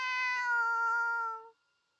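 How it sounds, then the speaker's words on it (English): A single drawn-out cat meow from a video game, clear and tonal, lasting about a second and a half before cutting to silence. "that a cat I hear meowing just outside?"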